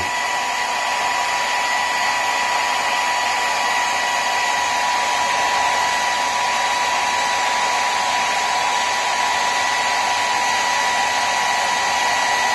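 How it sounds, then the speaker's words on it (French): A hair dryer set to medium heat blows steadily on a freshly painted model aircraft cockpit part, a loud continuous whooshing whine that holds an even level for the whole stretch with no talking. "on va prendre le séchoir qu'on va mettre à température moyenne, pas la plus forte ni la plus basse, et on va allumer pendant 15 à 20 secondes"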